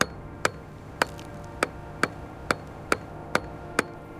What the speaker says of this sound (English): he struck the first nail, and with every echoing blow